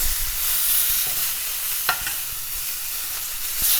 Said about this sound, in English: now make sure the meat is good and seared